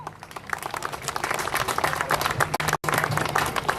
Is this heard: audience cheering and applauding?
yes